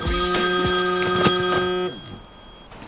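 A telephone rings in a loud, buzzing burst lasting about two seconds before cutting off abruptly, close and alone with no talk.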